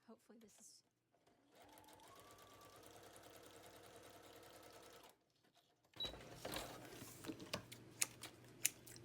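A sewing machine runs a zigzag stitch across a journal collage in a steady mechanical whir for several seconds, followed by close, louder handling clatter and taps.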